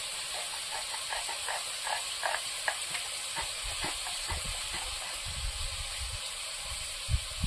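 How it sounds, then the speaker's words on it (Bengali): Ridge gourd sautéing in a pan for a Sundarbans-style jhinge posto, giving a steady close sizzle and hiss with scattered small pops and clicks throughout. "এবার ঝিঙেটা ভালো করে কষিয়ে দেবো"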